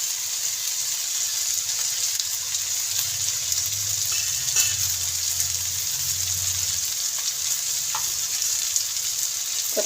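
Boiled potatoes and peas fry in a pan, a steady close sizzle with occasional stirring scrapes and clinks, and no voices.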